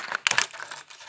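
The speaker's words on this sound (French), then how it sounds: "Donc là, je la déballe." Close crinkling and tearing of plastic packaging as a United Bricks brick set is unwrapped, a brief burst of rustles followed by softer handling.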